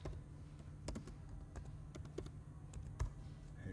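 Typing on a computer keyboard while saving a SketchUp file to the desktop, with scattered key clicks and a couple of sharper taps over a steady low hum of room noise.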